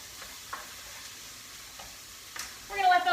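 Vegetables cook in a pan with a soft, steady sizzle, broken by a few light stirring scrapes, and a louder burst of sizzling toward the end. There is no talking.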